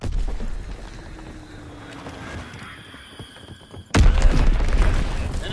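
A bomb blast in a WWII shooter game lands as a sudden loud boom partway through, following quieter rumbling battlefield ambience and continuing as a sustained roar afterward.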